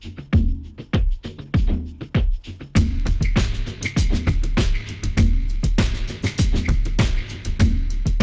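A punchy drum loop run through a hardware compressor, with heavy, compressed kicks and snappy hits, sparse at first, then thickening into a dense, driving groove with no vocals.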